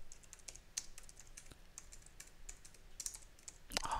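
Steady computer keyboard typing as a pip install command is entered, a continuous run of close, crisp key clicks with a louder clatter of keys at the very end, no speech.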